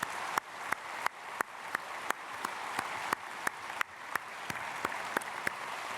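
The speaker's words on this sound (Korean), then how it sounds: "박수하겠습니다." A church congregation at Sunday worship applauds after the choir's hymn, a steady wash of clapping with a strong, regularly repeating beat of sharp claps, as if many hands keep time together.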